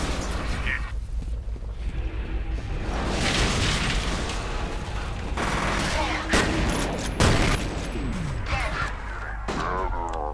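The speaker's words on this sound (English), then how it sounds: "I got grenaded." In the F.E.A.R. game a grenade goes off amid a chaotic firefight, with heavy booms, bursts of gunfire and rumbling blasts filling the scene loud and close throughout.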